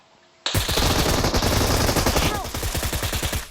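Rapid machine gun fire in the PUBG battle royale game, a loud sustained automatic burst that starts abruptly and continues as distinct rhythmic shots toward the end.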